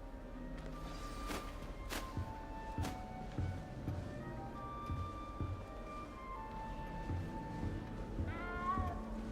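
A frightened little cat meows repeatedly in Hogwarts Legacy, several short, clear mewing calls spread across the clip over soft game ambience, with a final higher cry near the end.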